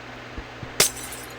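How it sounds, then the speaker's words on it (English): A single bright glassy clink in Minecraft as a glass block is set on top of a rail, short and sharp against a quiet background, preceded by two faint soft taps. "You're going to place glass blocks on top of the rails, going all the way around."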